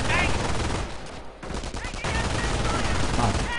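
Sniper rifle fire in a Company of Heroes 1v1 match between US and Wehrmacht armies, sharp reports cutting through dense, continuous battle noise at steady loudness throughout.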